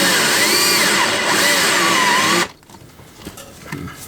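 A power drill bores into a house wall with a loud, steady whining grind for about two and a half seconds, then cuts off abruptly, leaving quiet rustling and small handling noises.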